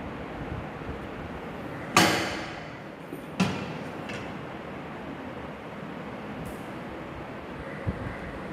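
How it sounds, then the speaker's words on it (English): An autoclave lid closes with a sharp metallic clunk, followed by a second knock and faint clicks of screw clamps being tightened, in an otherwise quiet lab. "So close the lid of the autoclave and just use the screw clamps which are diagonally present."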